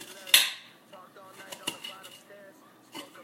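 A knife slices food on a cutting board while spaghetti and meatballs are being prepared, giving a few sharp taps and scrapes spaced out across a few seconds in a quiet kitchen.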